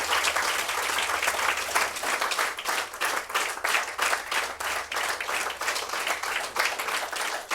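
A standing audience applauds at a Hindi poetry gathering in the Delhi Assembly, many hands clapping steadily in a dense, continuous roar that ebbs and swells slightly without pause.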